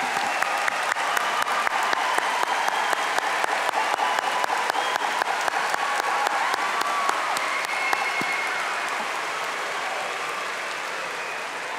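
A large crowd at the Mililani High School 2022 graduation applauds the parents of the graduating class, a dense, continuous roar of clapping that holds steady and then slowly thins and fades.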